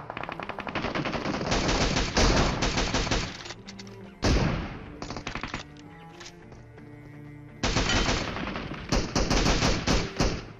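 Gunfire in the mobile battle royale game BGMI: loud bursts of rapid automatic fire in several long volleys, broken by short pauses and a few single shots, close and dominant with no voices.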